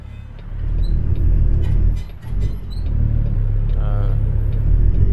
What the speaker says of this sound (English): Oh man, this engine sounds so good.